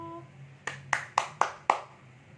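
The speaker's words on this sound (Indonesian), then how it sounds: "Tepuk tangan untuk kelompok 1." A small group of women clap for group 1 at a community family-support session: about five sharp, separate claps in a short, uneven burst over a low background hum.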